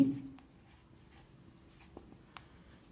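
A pen or pencil writes by hand on paper while working out a class six math equation, a few faint scratchy strokes after a soft opening thud, in an otherwise quiet room.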